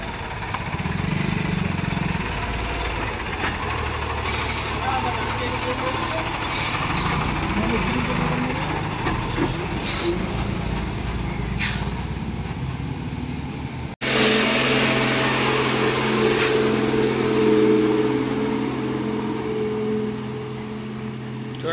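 Heavily loaded Tata truck pulling uphill on a curved incline, a loud labouring engine drone that shifts to a steadier, heavier rumble partway through, with someone talking over it.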